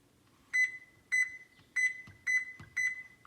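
A kitchen timer beeps five times in an even rhythm, each electronic beep short, clear and close, with quiet pauses between.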